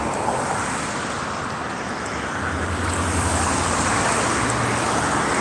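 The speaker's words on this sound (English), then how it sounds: "But the traffic is so heavy around here, it's not funny." Heavy street traffic at a city crossing, a steady loud roar of passing cars and engines with a low vehicle hum rising in the second half, no voices.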